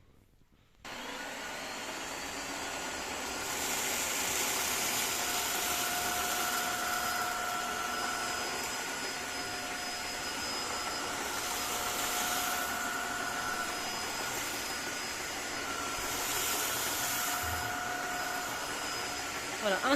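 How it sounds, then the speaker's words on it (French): A Tineco iFloor3 vacuum cleaner runs steadily, sucking up dry lentils and rice from the floor in one pass: a loud, continuous whine with high tonal hum that starts abruptly and holds for the whole stretch. "je vais aspirer les lentilles et du riz"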